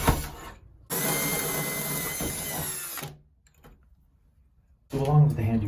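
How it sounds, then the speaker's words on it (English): A power drill with a masonry bit bores into stucco on an exterior wall for a Ring doorbell install, giving one loud, close, steady whine of about two seconds that then stops, with other brief handling noises around it. "I'm going to need to use a masonry bit to drill through the stucco"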